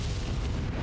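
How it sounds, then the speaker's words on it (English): Cannon fire from the Resident Evil 4 video game, a deep, sustained boom with a rumbling low end that fills the whole short moment without any clear break or talk. "Remember that cannon that we just raised?"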